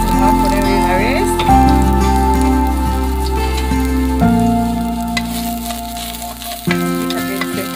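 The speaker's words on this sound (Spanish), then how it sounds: "aquí le voy a poner tantita aceite a la cazuela, poquita, para poder freír la cebolla" Chopped onion frying in a little oil in a clay pot, a loud steady sizzle with crackling and stirring that carries on throughout, with a couple of sharper clinks.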